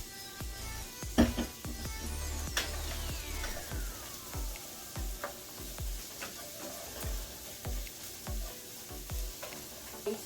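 Carrots go into a cauliflower rice stir fry with chicken, oil, ginger, garlic and onion, frying with a steady loud sizzle while a utensil stirs and scrapes the pan in repeated knocks, with no talking.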